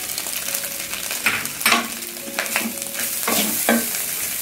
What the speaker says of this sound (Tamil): ரைஸ் ஆட் பண்ணிட்டு நல்லா கிளறி விடுங்க, ஃபுல்லாக ஸ்ப்ரெட் ஆகும்.